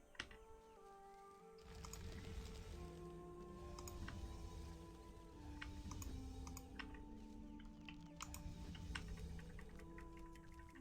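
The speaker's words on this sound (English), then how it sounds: "Clicky clicky on the keyboard." Keyboard typing in a World of Warcraft session, a run of light keystroke clicks heard under game background music and ambient sounds throughout.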